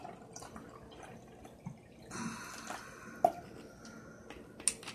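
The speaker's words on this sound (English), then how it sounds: "So, of course, pour it in a blue glass." Drink poured into a blue glass, heard as faint wet trickling and dripping with a few sharp clinks and splashes, close and quiet against a low background hum.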